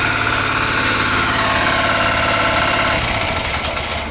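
A motoblok walk-behind tractor engine runs loud and close, a dense, steady idling rumble with a rapid knocking pulse that shifts slightly in tone near the end.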